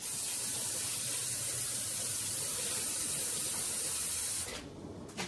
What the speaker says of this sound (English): I'm going to put more water in there.